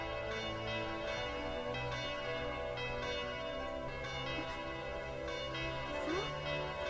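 Legendary bell from Tokimeki Memorial 2 ringing steadily under game music, a dense sustained peal with repeated strikes that carries through the whole passage, loud and close.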